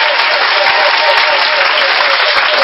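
A church congregation bursts into loud applause and cheering for Jesus Christ, a dense, close wall of clapping that holds steady for a few seconds with no one speaking over it.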